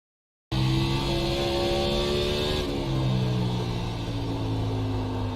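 A race car engine under hard throttle at North Wilkesboro in iRacing, an Xfinity car, starting abruptly and holding a loud, steady, close roar with a slight pitch drop partway through.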